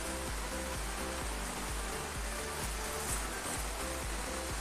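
Irrigation water flows through a small village channel feeding rice paddies beside a river, a continuous loud broadband rush with low rhythmic gurgling pulses and no other sounds.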